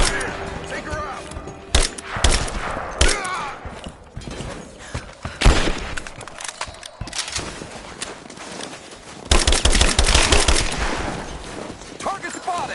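Rapid assault rifle bursts crack through a Rise of the Tomb Raider firefight, loud and close, in several volleys with pauses between, while combat voices shout over and between the shots.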